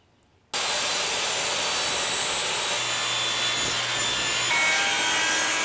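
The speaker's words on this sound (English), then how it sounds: "it's ready to go through the table saw" A table saw rips through plywood, starting suddenly from near silence into a loud, sustained, rough whining roar that holds steady and swells slightly toward the end.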